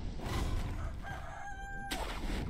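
A chicken in the video game Sekiro, a rooster-like crow and clucking at moderate loudness over steady game ambience, with no speech.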